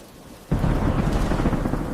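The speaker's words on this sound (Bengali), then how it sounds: "তবুও বৃষ্টির শব্দটা ভালো লাগে।" Heavy rain with a rumble of thunder in a Bangla family cartoon, starting abruptly after half a second of quiet and then holding as a loud, steady downpour with no talking.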